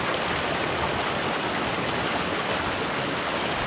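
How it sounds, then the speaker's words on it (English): Water rushes into a deep natural pool in a constant, close, full-bodied roar with no pauses or voices. "and then the water is just rushing in on you."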